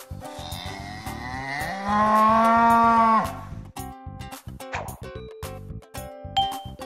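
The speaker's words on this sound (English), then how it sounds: "Cow." A cartoon cow gives one long, loud, steady moo lasting a couple of seconds over light background music in a children's learning show, followed by soft plinking chimes.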